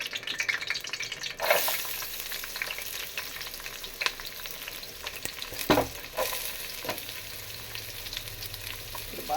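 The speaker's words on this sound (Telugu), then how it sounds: "బాగా ఫ్రై చేసుకోవాలి." Onions and green chillies fry with cinnamon in a hot pan, producing a continuous sizzle broken by occasional scraping stirs, close and alone.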